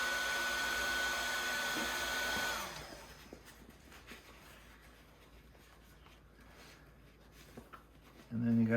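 A heat gun or hair dryer warms the upholstery on a round stool seat, blowing as a steady loud whoosh for a few seconds before cutting off, followed by quiet handling noises and a brief low sound at the end.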